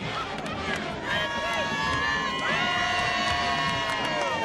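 Huge college football crowd at a Grambling State Tigers vs Nichols State game roars with sustained cheering and whooping, a dense steady wash of stadium noise throughout.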